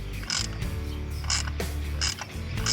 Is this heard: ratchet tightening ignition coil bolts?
yes